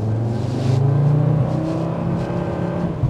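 A 2024 Audi RS3 sedan with a dual-clutch transmission accelerating, the engine drone climbing and holding high without a prompt gear change, loud and close from inside the car.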